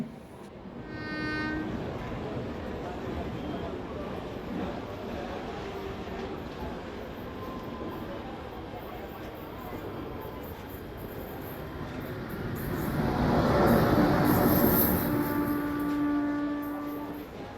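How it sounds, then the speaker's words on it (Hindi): A train at an Indian railway station rumbles steadily, with the sound of passing carriages and a horn-like tone near the start and again near the end. The rumble swells louder toward the close. "भैया, मुंबई जाने वाली ट्रेन अभी निकली तो नहीं है ना?"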